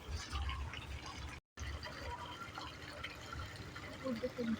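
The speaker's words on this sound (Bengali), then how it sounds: "এই যে জল এসে পড়ছে এখানে।" Water pours from one village fish pond into another, a steady rushing splash close by, with a person talking over it.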